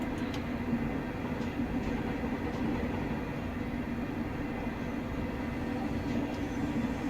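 Class 385 electric train in Train Simulator Classic running through a neutral section, a steady loud rumble of wheels and cab noise throughout with no traction whine, continuous and unbroken with no voices.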